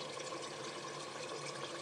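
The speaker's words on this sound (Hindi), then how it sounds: "5 मिनट हो गया, अब इसमें हम पानी डालेंगे।" Water pours into a pot of fried mutton for Lucknow-style biryani, making a steady, continuous rushing splash for the whole moment with no talk.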